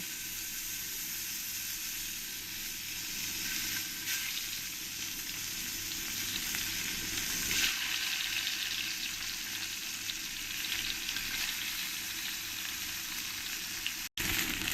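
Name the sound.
frying tilapia fish in oil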